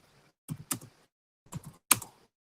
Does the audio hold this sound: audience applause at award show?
no